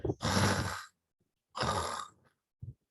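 A voice imitates snoring with two long, rough breathy bursts separated by a pause, then a short final grunt, close and fairly loud against silence.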